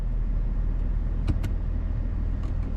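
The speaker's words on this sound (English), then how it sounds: "we'll just restart the car again" A BMW 5 Series E60 car idles with a steady low engine rumble throughout, broken by a few short, sharp clicks near the middle and end.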